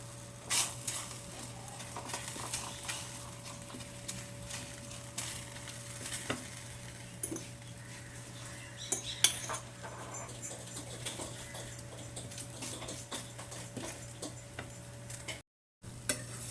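Methi thalipeeth frying in ghee on a pan, a steady soft sizzle with faint scraping and light ticks running throughout, close and continuous with a brief dropout near the end.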